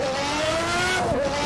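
A McLaren MP4/6 Formula One car in a racing video game at Imola, its engine note held high and then dipping as it shifts, loud and continuous with a steady tonal whine and no talking.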